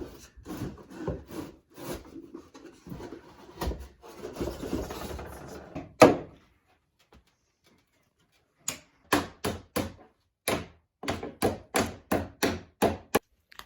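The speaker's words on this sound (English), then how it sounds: "So now I am trimming our window trim." Wooden window trim in an off-grid cabin is cut with a hand tool in rasping back-and-forth strokes, followed by a pause and then a run of sharp, evenly spaced chopping taps close by.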